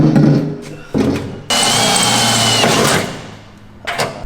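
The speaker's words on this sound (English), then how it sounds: "hole is drilled" A power drill bores a hole in a fuel tank in a garage, with short bursts of whirring followed by one long, loud, steady drilling run of about a second and a half before it winds down.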